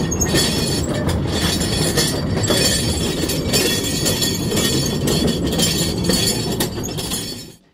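A mine train rumbles steadily along its tracks in the Queen Mine, Bisbee, Arizona, with a dense, clattering roar and occasional metallic clinks and squeals, loud and continuous before fading out at the end.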